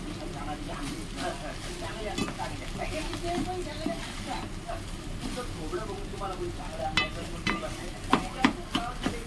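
Fried rice tossed and stirred in a hot pan, a steady close sizzle with scraping spoon strokes and clatter growing sharper near the end, while a person talks over it.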